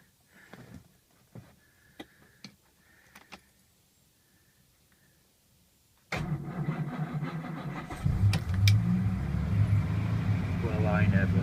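An old Humber car engine starts with the choke pulled out, cranking briefly after a few faint clicks and then catching into a loud, steady running idle that rises and stays rough and close.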